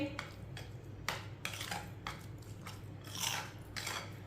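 Semolina halwa mixture stirred in a pot with a spoon, making a series of soft, irregular scraping and clinking strokes, close and quiet, without talk.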